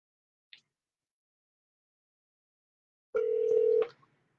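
Telephone dialing tones: a tiny high blip, a long pause of silence, then a steady, clear tone lasting under a second that fades out.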